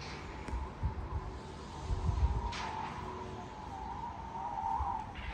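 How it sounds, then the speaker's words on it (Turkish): Wind howling outside a balcony in a city, a faint, steady moaning whistle with low gusty rumbles rising and falling throughout, distant and without voices. "Rüzgar sesi."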